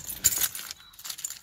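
Car keys on a Rover 45 being pulled out, giving a short light metallic jingle and clink, close and brief, with quiet surroundings.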